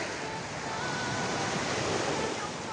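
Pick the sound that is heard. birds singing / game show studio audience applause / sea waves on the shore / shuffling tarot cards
sea waves on the shore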